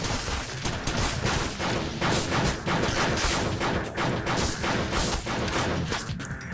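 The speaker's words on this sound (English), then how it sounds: "These are fire bullets, by the way." Fire bullets shooting in Tesla vs Lovecraft, a top-down twin-stick arena shooter: dense, rapid, continuous gunfire crackling loudly throughout, with bursts blending into a constant barrage and no speech.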